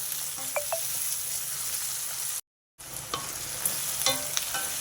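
Small onions simmering in an egg and drumstick tamarind gravy give a steady close sizzle and bubble, with a few light clicks of a spoon against the pan and a brief silent gap midway.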